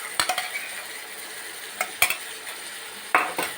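Ginger garlic paste fries in a hot pan as a steady close sizzle, with a few sharp spoon clinks and scrapes against the pan as it is stirred. No one talks.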